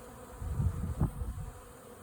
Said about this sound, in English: It's just bees, you knowing bee behavior and bees doing their bee thing.